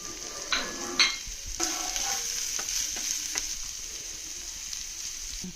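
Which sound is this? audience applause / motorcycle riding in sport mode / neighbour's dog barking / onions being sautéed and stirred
onions being sautéed and stirred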